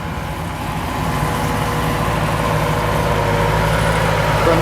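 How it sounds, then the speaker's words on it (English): An Atkinson lorry with a Gardner diesel engine rumbles past at a steam rally, a steady low diesel drone that builds gradually as it draws nearer, with no talking over it. "And here comes the Atkinson with its lovely Gardner engine."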